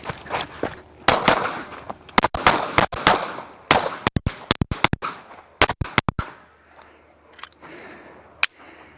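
Pistol shots crack out at a USPSA practice stage, loud sharp reports fired in quick strings and pairs with brief pauses, ending in a couple of isolated shots.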